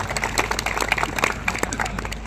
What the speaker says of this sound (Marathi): त्यांच्यासाठी सर्वांनी एकदम टाळ्या वाजवायच्या